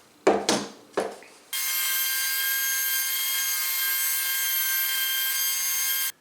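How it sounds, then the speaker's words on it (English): Palm router fitted with a roundover bit cutting wood pieces taped to a bench, a few short knocks and scrapes first, then a sustained high-pitched whine running loud and steady to the end. "I've set up the roundover bit in my palm router"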